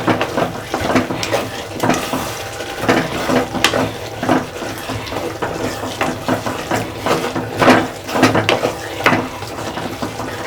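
Chopped eggplant sizzles in a pan of fish curry base for kanakatha meen kulambu, with a steady fry hiss broken by repeated scraping stirs of a spoon against the pan, close and alone.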